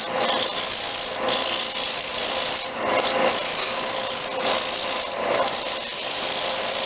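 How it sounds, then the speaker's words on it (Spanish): Continuous rasping of sandpaper against wood spinning on a lathe, a steady abrasive hiss that swells and eases in slow strokes. "simplemente es volver a hacer todo el movimiento de la forma con la lija"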